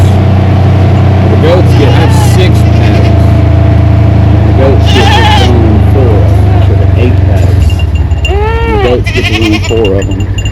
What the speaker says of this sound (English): Here's the goats.